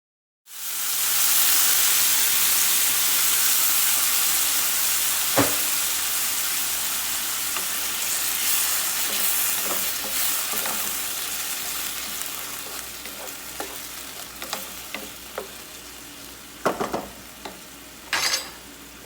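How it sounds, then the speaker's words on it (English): Shrimp pan frying in a pan, a loud steady sizzle and hiss that begins abruptly and holds throughout, with occasional pops and utensil clicks toward the end. "in this pan we are going to start, we're just going to kind of pan fry our shrimp"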